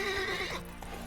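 Roach, a horse in The Witcher 3, lets out a loud, close whinny with a falling pitch, followed by faint hoof clip-clops under a steady game ambience.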